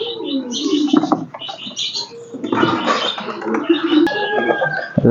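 Pigeons coo and chirp close by, soft throaty calls mixed with brief rustles and scuffs, no talking.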